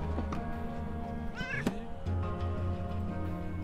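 A cat in the video game Underrail gives one loud, close, rising meow over a constant droning game background with a humming music bed.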